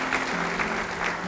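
Continuous clapping from a church congregation during a sermon, a dense, even wash of many hands, moderately loud and unbroken, with no voices over it.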